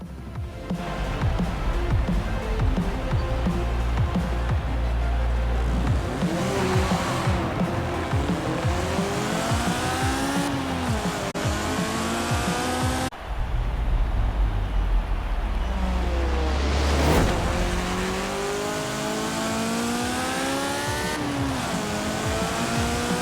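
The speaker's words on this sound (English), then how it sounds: "the motorcycle engine is extremely high revving." A Honda S800 with a motorcycle-derived engine in Forza Horizon 4 screams to very high revs, climbing repeatedly through gear changes with brief tire squeal, loud and continuous with no voices.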